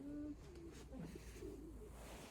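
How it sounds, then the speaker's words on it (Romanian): Pigeons cooing outdoors, soft throaty warbling coos repeating faintly at a distance over a quiet background. "Porumbei!"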